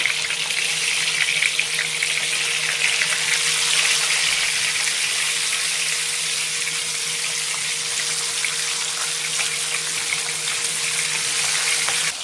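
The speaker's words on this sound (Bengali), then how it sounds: "তো তেল গরম হয়ে গেছে, এবারে মাছগুলো দিয়ে দেব" Tengra fish frying in hot mustard oil, a steady loud sizzle and crackle close to the pan that holds unbroken for about twelve seconds with no talking.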